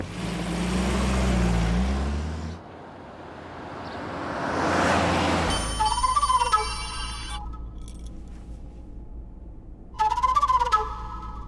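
A telephone ringtone trills in two bursts separated by a short pause. Before it, a car engine and road noise rumble, then fade away.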